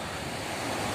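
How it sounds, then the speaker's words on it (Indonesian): Big ocean waves breaking on a beach at Anyer, a broad steady roar of surf mixed with wind buffeting the microphone, moderately faint and continuous. "Ombaknya lagi gede, cuy."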